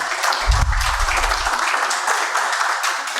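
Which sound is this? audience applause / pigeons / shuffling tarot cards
audience applause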